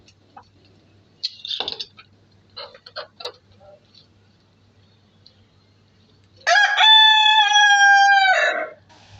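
A rooster crows loudly and close in one long sustained call near the end, after a few scattered short sounds that could be hens clucking.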